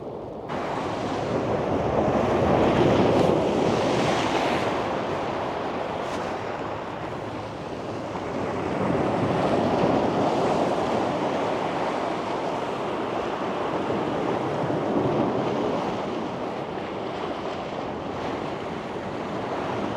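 Steady roar of stormy Black Sea surf at Odesa in autumn, waves swelling and breaking, mixed with gusty wind buffeting the microphone, continuous and fairly loud throughout.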